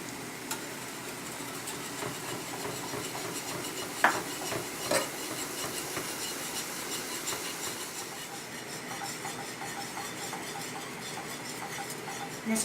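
Steady soft scraping and gentle sizzle of cream cheese being stirred into a thickening sauce in a pan, continuous and fairly quiet with a couple of small clinks, no voices.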